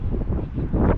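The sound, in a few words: strong wind blowing at a wind turbine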